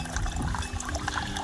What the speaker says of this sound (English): I'd rather have this constant stream of water coming from that little spray pump